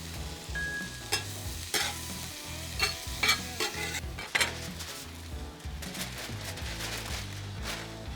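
Garlic and thinly sliced yellow onion fry in butter with a steady sizzle, broken by repeated sharp scrapes and clinks of a utensil stirring against the pan, with no talking.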